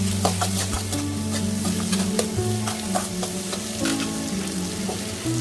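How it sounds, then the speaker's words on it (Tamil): Small shallot-type onions sautéing in a pan for a crab masala, a close sizzle with repeated clattering stirs of a spoon against the pan and a low background hum, no talking. "சின்ன வெங்காயம் போட்டு அதையும் நல்லா வதக்குங்க."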